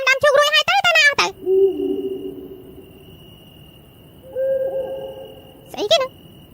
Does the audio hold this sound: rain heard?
no